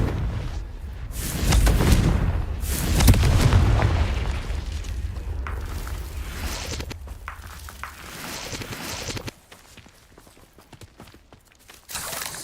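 A Confringo fire spell explodes in Hogwarts Legacy, loud deep booms rolling across the first seconds, then a long fading rumble that drops away abruptly, with a faint thump at the very end.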